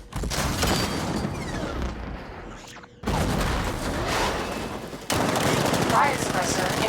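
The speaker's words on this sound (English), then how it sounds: "60mm cannon operational." Heavy repeated cannon fire from the Batmobile's 60mm gun in Batman: Arkham Knight, loud rapid bursts with booming impacts across three separate stretches.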